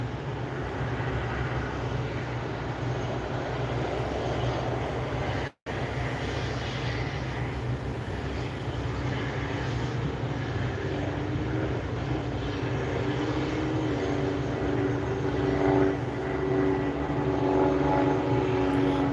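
A Bombardier Challenger 350 jet on the runway gives a steady, broad engine roar that holds for the whole stretch with one brief dropout, swelling slightly louder toward the end.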